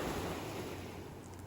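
Ocean surf washing onto a Gulf beach at Gasparilla State Park, Boca Grande, heard as a steady, moderate wash of broadband noise with no distinct breaks, carried alone without talk.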